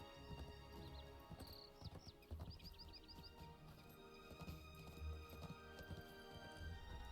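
Hooves of a galloping horse in the video game Legacy of Morgoth, a steady rhythmic clip-clop running throughout against soft outdoor ambience with faint chirps of birds or insects.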